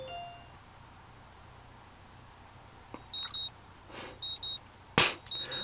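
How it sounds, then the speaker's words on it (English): An alarm clock goes off in the visual novel Katawa Shoujo, heard as a few short electronic beeps in quick pairs followed by a sharp metallic ding, fairly quiet and close, with no speech. "The sound of an alarm pulls me out of a fitful slumber into the unpleasant state of wakefulness."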